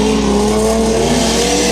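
A Nissan 370Z drift car at a drift event at Anderson Motor Speedway lets out a loud, sustained tire squeal over a roaring engine, close and unbroken for the whole moment.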